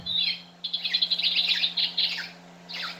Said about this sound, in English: New design, house sparrow.